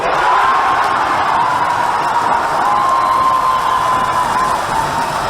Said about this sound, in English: while the home crowd was still celebrating the goal announcement